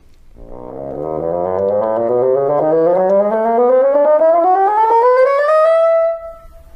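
A bassoon played with its double reed sounds a single sustained tone that glides steadily upward over about six seconds, reedy and full, close and fairly loud, then stops.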